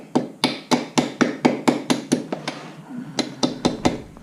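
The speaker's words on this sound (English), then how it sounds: "Take your upholstery hammer." An upholstery hammer taps a wooden beehive brood frame in quick, sharp, evenly spaced knocks, about a dozen close-up blows in a steady run with a brief pause before the last few.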